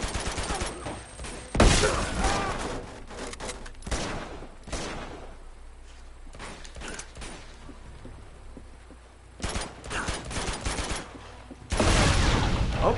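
Video game battle in Uncharted 2: Among Thieves, with bursts of gunfire and heavy explosive blasts, including a bomb, that surge and fade over a continuous loud background, with some speech.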